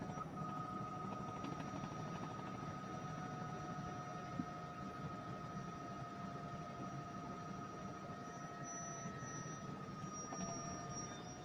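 A helicopter flies over a deadly mudslide scene in Atascosa County, Texas, giving a steady, unbroken engine and rotor drone with a faint whine that holds for the whole stretch, with no talking.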